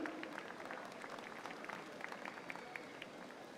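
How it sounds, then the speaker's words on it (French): An audience at the Coupe du Monde de la Pâtisserie 2015 pastry competition claps for the jury of journalists, a faint, steady patter of many hands heard from a distance. "A round of applause for our jury of journalists as well this year"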